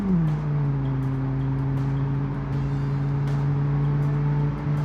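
A 2000 delivery van's engine at full throttle in the BeamNG driving game drones steadily, its pitch settling after a brief drop and holding level throughout with faint ticking over the top.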